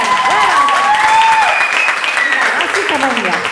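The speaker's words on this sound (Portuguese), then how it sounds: "As vossas palmas estão muito fraquinhas." Outdoor festival crowd clapping in the rain, a dense continuous patter of applause while a voice speaks over it.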